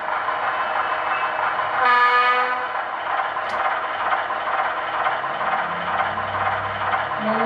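Model Baldwin VO1000 diesel locomotive with a Tsunami 2 sound decoder, a steady synthesized diesel engine rumble running throughout, with a brief horn-like tonal burst near the start, no talking.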